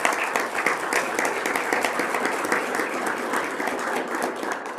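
A conference audience applauds a platinum sponsor, the UW School of Human Ecology, with dense, steady clapping that holds at an even loud level throughout.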